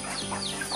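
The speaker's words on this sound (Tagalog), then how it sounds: "manok." A backyard chicken clucks in short, irregular bursts, fairly close and continuous across a brief moment, with a steady background hum underneath.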